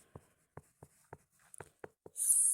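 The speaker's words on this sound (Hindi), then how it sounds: "जैसे कि मैं कुछ नाम लिखता हूँ, देखो" Chalk or marker strokes on a board as names are written, a series of short soft taps and scrapes in an irregular rhythm, close and quiet, ending in a brief hiss.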